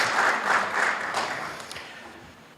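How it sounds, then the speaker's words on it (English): Audience applause for John Pappas Award recipients at a volunteer awards and recognition event in Hayward, a dense wash of clapping that peaks early and then gradually fades away. "Give him a round of applause."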